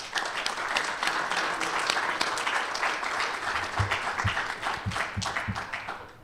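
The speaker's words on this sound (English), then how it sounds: "give yourselves a round of applause" Audience applause at a student affairs year-end recognition and awards ceremony, a dense sustained wash of many hands clapping, fairly distant and steady, with a few sharper individual claps standing out toward the end.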